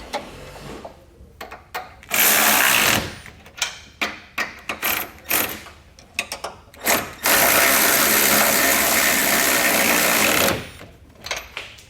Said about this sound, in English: we can go back and tighten down all of our bolts. We're going to use a 19mm socket and wrench